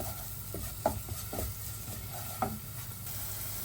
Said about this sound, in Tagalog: Pag gawing golden brown lang natin yung mga bawang guys.